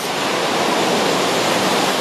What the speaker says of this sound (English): Cars making waves, with streets resembling rivers.